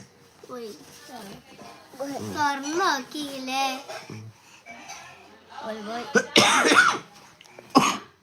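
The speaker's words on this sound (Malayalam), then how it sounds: "ഭയങ്കര ചുമ" A child coughs heavily, with sharp harsh bursts breaking up the child's close, loud speech and babbling.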